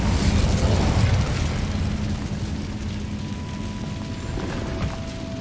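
Incendio fire spell cast in Hogwarts Legacy, a loud roaring fiery burst at the start that fades into a lingering rumble, followed by softer pops and a faint tonal hum.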